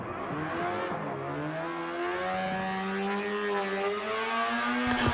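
A race car at speed through a high-speed corner at Yas Marina, engine note loud and sustained with rising, shifting pitch as it holds on through into the next bend, with no talk.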